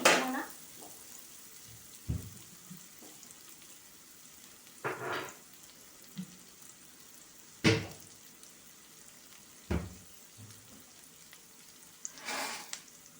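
Onions frying quietly in a pan, a soft, faint sizzle broken by scattered clinks and scrapes of stirring at irregular intervals.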